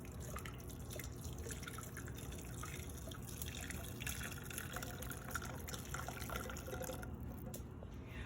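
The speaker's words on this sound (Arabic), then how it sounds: "هلا بصفيها بطنجرة نظيفة" Kafta cooking liquid strained into a clean pot, a faint, steady trickle and patter of liquid running for several seconds with soft drips near the end, heard alone in a quiet kitchen.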